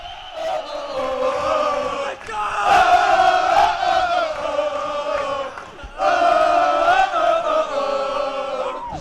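Loud basketball crowd at a high school varsity game during a timeout, voices chanting and cheering in rhythmic waves with short lulls, filling the gym.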